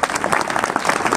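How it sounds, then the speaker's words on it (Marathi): Audience at a devotional gathering clapping loudly, a brief, close burst of dense applause lasting just over a second. "एकदा जोरदार तुमच्याकरताच टाळ्या वाजवा."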